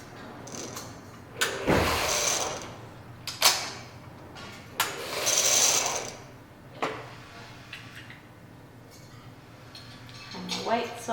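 A Dubied knitting machine casting on with draw thread: the carriage makes several loud, close rasping sweeps, separated by quieter pauses with light clicks and mechanical rattles.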